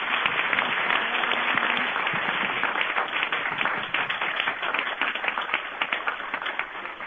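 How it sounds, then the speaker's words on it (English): Conference audience applauding its speakers with dense, continuous clapping that holds strong, then thins slightly into more separate claps toward the end. "Let's get a round of applause for these speakers."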